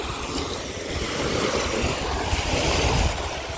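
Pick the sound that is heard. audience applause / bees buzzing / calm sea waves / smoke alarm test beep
calm sea waves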